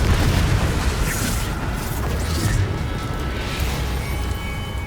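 The explosive Confringo spell in the Hogwarts Legacy video game, a loud sustained blast and roaring rumble that fills the whole moment and slowly tapers without fading out.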